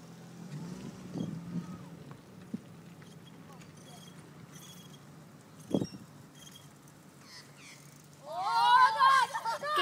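Bird chatter of a magpie rises loud and near toward the end, following faint background noise with a few soft knocks and brief thumps.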